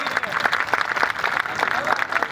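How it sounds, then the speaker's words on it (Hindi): Audience at a Hindu New Year poetry recital in Kota, Rajasthan, clapping steadily in a dense, continuous patter of many hands at moderate volume, without a break. "अभी तालियां थोड़ी सी कम आ रही है"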